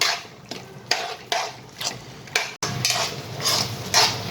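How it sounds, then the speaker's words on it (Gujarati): Boiled pasta gets mixed into pink sauce with vegetables in a pan, a series of close, wet scraping stirs repeating about every half second over a faint sizzle, with a brief cut midway and no talking. "હવે આ બધું આપણે મિક્સ કરી લઈશું."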